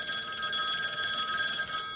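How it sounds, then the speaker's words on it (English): A telephone rings with a steady electronic bell trill, several bright tones held continuously for two seconds over a low background hum. "Oh shit, the phone."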